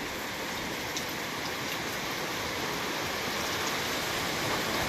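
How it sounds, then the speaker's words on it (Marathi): Rain over a rural goat pasture keeps up a steady, dense hiss, even and unbroken, with no talking over it. "पाऊस थांबलेला आहे पाऊसाचा जोर कमी आलेला आहे"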